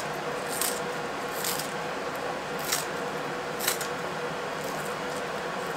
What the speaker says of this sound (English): And then I just take my scissors and snip them.